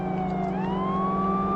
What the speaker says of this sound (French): c'est vraiment les voitures de police américaines avec la sirène, la radio qui hurle et tout ça